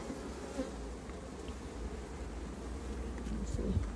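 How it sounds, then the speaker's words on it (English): A dense, low buzzing drone of many agitated bees in a Langstroth beehive hums steadily throughout, fairly quiet and close, with faint movement noises. "A lot of bees. Yeah, they're not very happy now."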